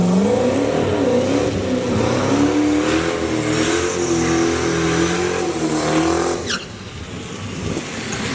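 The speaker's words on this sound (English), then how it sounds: "You can hear the turbo singing, you hear the wastegates fluttering" A turbocharged car with a 118mm turbo doing a burnout roars loud and close, engine droning steadily as the turbo sings and the wastegates flutter, then cuts off sharply near the end into a quieter rumble.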